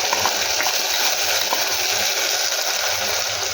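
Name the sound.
tomato paste added to frying onions in a pan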